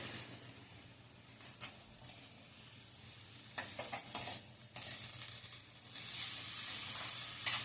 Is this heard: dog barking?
no